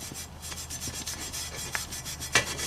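Steel wool or sand is scrubbed hard against a cast iron roasting pot, making repeated rhythmic rasping strokes that are close and fairly quiet, with one sharper scrape near the end.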